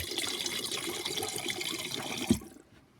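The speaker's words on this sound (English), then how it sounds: "refill our use jug by going ahead and putting some new Ed's Red into our cleaning jug" Ed's Red cleaning solvent is poured into a cleaning jug as a steady, close liquid rush for about two and a half seconds, ending with a small knock before it stops.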